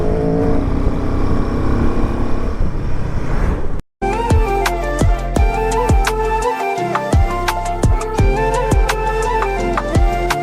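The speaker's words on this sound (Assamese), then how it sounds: "চাউণ্ড শুনক এইখন বাইকৰ চাউণ্ড।" A motorbike engine in Ladakh drones with a rough, steady note for about four seconds, then gives way to loud rhythmic music with sharp percussion.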